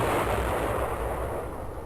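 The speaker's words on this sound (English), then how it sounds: "Explosion on the bearing of Sierra 5" An explosion in the Fast Attack submarine game, a surface-warfare training mission with Harpoon missiles, booms as a heavy, muffled, rumbling blast that sustains for about two seconds and fades only slightly.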